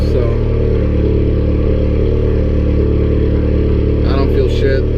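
A VW Golf R MK7 engine idles steadily after a cold start, a loud, even low-pitched drone with a brief clatter near the end.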